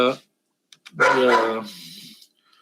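A pet dog barks indoors, one short yelp followed by a longer, louder bark-like outburst, fairly close, with no other voices over it.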